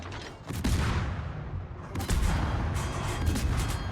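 Naval gunfire in World of Warships around the Faroe Islands map, with an Italian tier IX cruiser in play: two heavy booming salvos with rumbling decay, loud and close, no talk.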